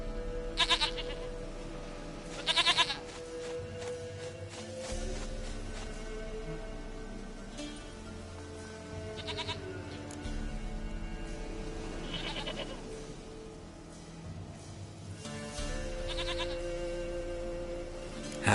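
Goats bleat in The Witcher video game, with several distinct bleats spaced across the clip over a steady ambient game background hum.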